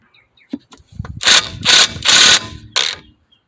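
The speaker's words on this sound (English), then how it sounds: "And your new nut, and I would use a portable gun for this." An air impact gun tightens a new CV axle nut during an axle replacement, firing four loud, rapid ratcheting bursts close by, each roughly a third to half a second long, with a few small metallic clicks before them.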